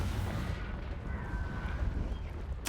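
Confringo fire spell blasts in Hogwarts Legacy on hard mode, rumbling booming impacts under a dense low roar, ending with a sharp bright burst at the close.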